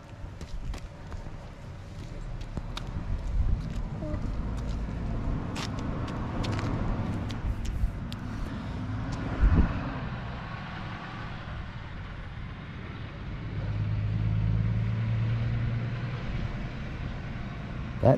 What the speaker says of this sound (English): That truck looks like it is weighted to the max.